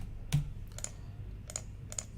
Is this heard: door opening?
no